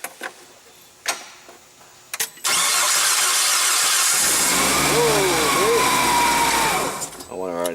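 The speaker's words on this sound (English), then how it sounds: "I'm going to try cranking it, see if it starts." An engine flooded with excess fuel cranks for a few seconds after some clicks and knocks, then catches and runs with a loud steady roar that eases slightly at the end.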